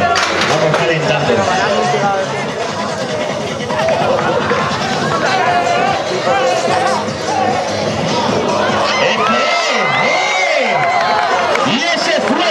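Crowd at a bullfight in Moncada, a loud continuous roar of cheering and clapping with constant babble throughout, close and dense, with no clear break.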